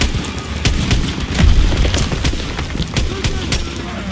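Suppression gunfire in the video game Call of Duty WWII on the Rhine at Remagen, dense overlapping rifle and machine gun shots with distant booms, a continuous loud battle din.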